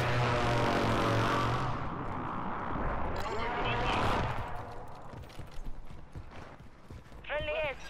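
Gunfire in the Call of Duty video game: a rapid series of sharp, cracking shots in the middle stretch, fairly close and moderately loud, set against a busy wash of game noise and a sustained tonal layer.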